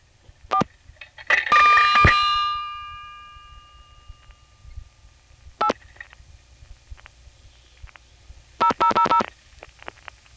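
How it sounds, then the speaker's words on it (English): Short button tones and mechanical clicks from a 1970s coin payphone keypad, with a ringing metallic clang early on, then a few quick dialed digits in bursts. "Notice how I can dial the first 2 digits without putting the coin in."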